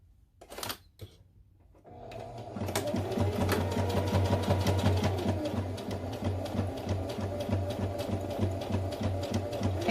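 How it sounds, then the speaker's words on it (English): A sewing machine runs basting stitches about 1/8 inch from the fabric edge while making a beginner's pouch, with a rapid, even mechanical chatter that starts after a couple of faint clicks and continues steadily, close and alone. "We're just going to baste it about 1/8 of an inch from the side."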